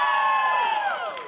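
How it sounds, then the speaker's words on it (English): A brief, loud burst of cheering and clapping from a League of Legends esports crowd at an LCS match, with shouts and whoops over a dense roar that tapers slightly at the end. "We got some applause there."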